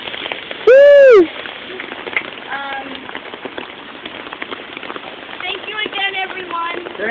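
Rain falls steadily on an outdoor Occupy Tampa general assembly, a constant hiss under scattered voices, opened by a brief loud high squeal.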